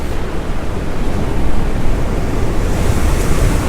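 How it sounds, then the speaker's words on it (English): Ocean waves surge close by in a loud, rolling wash that swells partway through, with wind buffeting the microphone and no voices. "Oh, look at this ocean coming through."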